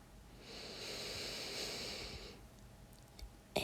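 One slow, deep breath drawn in through the nose during a guided meditation, soft and close, lasting a couple of seconds before easing off into quiet.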